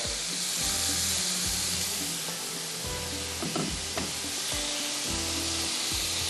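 Whole chilies fry in hot oil in a pan while cooking yakhni pulao, giving a loud, steady sizzle and hiss with periodic low thumps from stirring or the pan.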